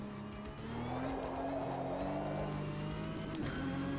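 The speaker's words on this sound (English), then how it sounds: "The scrub noise is just the worst." A race car in the sim game AMS2 howls at steady revs while its tires scrub and squeal under cornering load, a continuous close engine drone with a rough, grinding texture layered over it.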